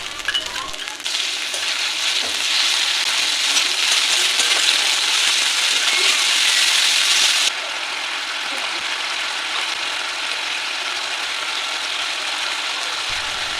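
Dried chillies, chopped onion and ginger-garlic paste fry in oil with a dense, even hiss that is louder at first, then drops to a softer steady sizzle partway through, no one talking.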